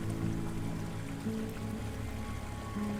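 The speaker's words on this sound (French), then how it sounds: "L'eau de la cascade est cristalline." Waterfall in the video game Clair Obscur, inside damp caverns, with a continuous rushing, splashing water wash that stays steady and fairly loud throughout, no voices.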